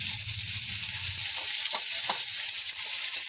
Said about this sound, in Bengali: তাই আমি আলাদাভাবে লঙ্কা দিচ্ছি।